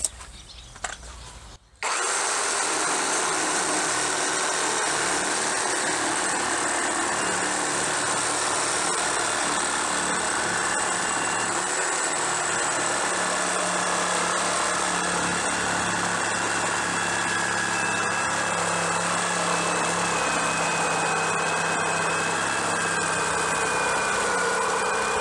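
An Einhell TE-AP 18/28 LI BL cordless brushless reciprocating saw cuts through a 14 by 18 wooden beam, a loud, sustained whining drone after a brief quiet start, running steadily for over twenty seconds.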